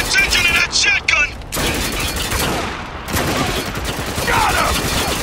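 Shotgun blasts and surrounding gunfire from the video game Spec Ops: The Line burst out loud and close in heavy, overlapping volleys that fill the scene almost continuously.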